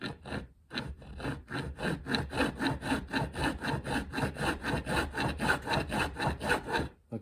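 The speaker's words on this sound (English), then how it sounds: "Okay, well this file is definitely sharper." A sharp metal file rasps across the wood of a cigar box guitar in steady back-and-forth strokes, close and loud, roughly three strokes per second after a brief pause at the start.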